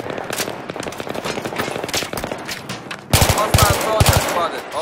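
Machine gun fire in the video game Battlefield 3 during a team deathmatch, rapid bursts of loud automatic shots, with a heavier, closer volley in the last couple of seconds and game voices calling out in the mix.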